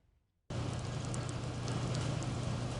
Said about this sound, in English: As rain falls on the farm, some operations are underway as usual